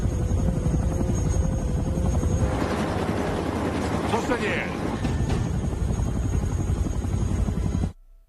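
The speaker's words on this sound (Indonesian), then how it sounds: "Kate segera keluar stasiun lalu meminta Carter mendaratkan helikopternya" Helicopter landing in a film scene, a steady loud rotor thump and engine roar filling the scene, with someone narrating over it until it cuts off abruptly.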